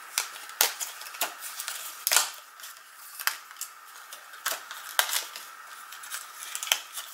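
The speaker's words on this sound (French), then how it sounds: "je vais déjà découper toutes les étiquettes" Scissors cut paper card labels in a quiet room: a string of short, crisp snips at uneven intervals, each one a sharp close click with soft rustling in between.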